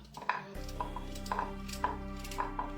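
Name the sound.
roughly chopping carrots with a knife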